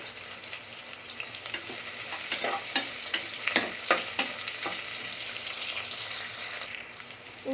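Sliced onion and green chilies frying with cardamom and bay leaf for veg biryani, a steady sizzle under a cluster of sharp spoon clatters against the pan as it's stirred, close and moderate.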